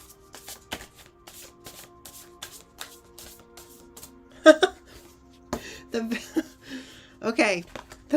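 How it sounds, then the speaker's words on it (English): A deck of oracle cards shuffled by hand, a series of quick riffling and flicking bursts at an irregular rhythm, close and fairly soft, with a person speaking in between the shuffles. "All right, so let me shuffle these."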